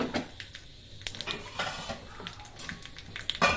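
Dried red chillies frying in a pan for rasam, with clinks of a spoon stirring against the pan and a soft sizzle, close and moderately loud, no voices.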